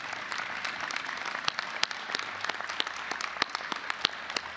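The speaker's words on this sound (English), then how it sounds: "Graduates, give them a round of applause." Clapping rises at a university commencement ceremony, a moderate crowd applauding with individual sharp claps standing out close by, no voices over it.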